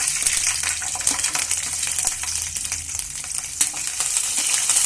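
Ingredients for a village-style nati chicken sambar fry in hot oil in a pot, giving a loud, continuous sizzle with crackling pops and occasional stirring clinks close by.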